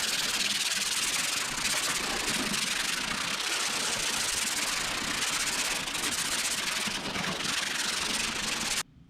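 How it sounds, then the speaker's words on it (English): Hand sanding of body filler on a rusty truck bed with roughly 200-grit paper, a continuous close scratchy rasp of repeated strokes, loud and steady, cutting off abruptly at the end. "then we can move to hand sanding"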